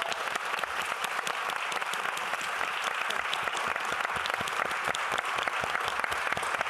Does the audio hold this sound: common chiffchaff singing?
no